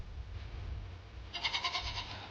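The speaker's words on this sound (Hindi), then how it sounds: "देखो बकरी दिखाता हूँ तुम्हें।" A goat bleats in short pulsing calls at a farmhouse, standing out midway over a low steady rumble of background noise.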